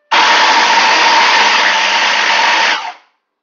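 An electric food processor finely chopping onions runs as a steady, loud whirring drone for about three seconds, then cuts off.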